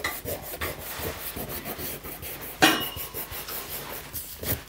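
Eraser rubbing back and forth across a pencil sketch of a symmetrical figure on paper, a soft continuous rasping scrub close by with one sharper scrape midway, heard alone.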